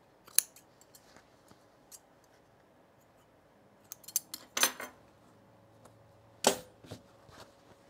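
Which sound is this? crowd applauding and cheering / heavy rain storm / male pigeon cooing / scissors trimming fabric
scissors trimming fabric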